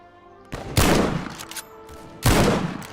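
Loud nearby gunfire in the World War I video game Over the Top: WW1, two sharp heavy blasts with booming decays and scattered distant shots between them.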